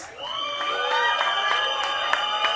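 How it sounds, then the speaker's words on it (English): An audience cheers and shouts at a song launch event in Mumbai, a continuous crowd roar with whoops and high excited voices at moderate level, no clear speech over it. "All these, give big round of applause, guys."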